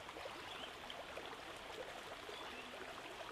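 Forest stream flowing over many wide stones, a soft continuous trickling rush heard from a little distance, steady and unbroken with no voices.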